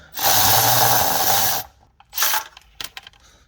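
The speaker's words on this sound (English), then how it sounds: "All right, so once we take off that last bolt, it should drop down." A power tool backs out the last transmission pan bolt on a 2005 Chevy Silverado 2500HD with an Allison transmission: one loud, close whir lasting about a second and a half, then a shorter burst and a few clinking metal taps.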